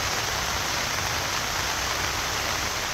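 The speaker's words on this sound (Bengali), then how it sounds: "মাঝে মধ্যে ভারী বর্ষণ" Heavy rain pours steadily during a monsoon downpour in Bangladesh, a dense, even hiss filling the whole stretch without pause, close and loud, with no voices.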